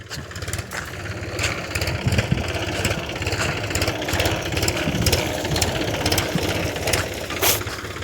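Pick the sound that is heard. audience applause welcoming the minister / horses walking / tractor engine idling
tractor engine idling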